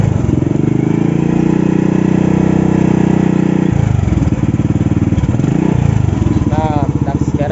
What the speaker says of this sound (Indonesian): Nah, ini suara mesinnya nih.